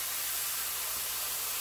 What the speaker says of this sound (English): close-up of that meat sizzling in that pan